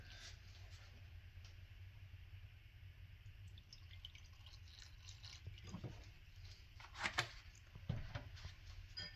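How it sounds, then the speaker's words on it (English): A faint trickle of milk is poured into custard powder, with soft liquid dribbles and light splashes that grow a little busier toward the end, against a quiet kitchen. "Add a little bit of milk."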